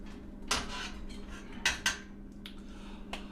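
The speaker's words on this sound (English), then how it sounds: "Toss those right in. Give it a quick stir" A quick stir of Vanguard hops into a pot of boiling home-brewed light beer, with a few sharp clinks of a spoon against the pot over a steady low boil hum.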